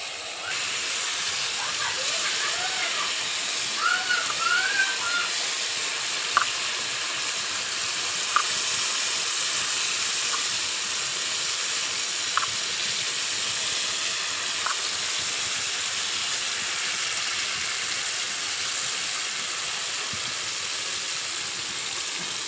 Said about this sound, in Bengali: এবারে ভেজে নেব, বড়া ভাজতে শুরু করব।